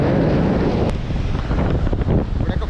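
Rough sea on a rocky Kerala shore near Vizhinjam during heavy monsoon rain, with strong wind buffeting the microphone and a broad roar of surf, loud and continuous with a brief sharp click early on.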